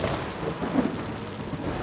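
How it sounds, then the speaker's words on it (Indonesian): Steady heavy rain with a low rumble of thunder, a dense continuous wash of sound close around the listener, with no talking. "Berhubung lagi hujan"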